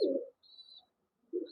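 Pigeons in a loft at a Gazipur breeding farm, including a red dewlap-type bird and German beauty homers, give two short low coos that open and close the moment, with a faint thin high tone in the quiet gap between.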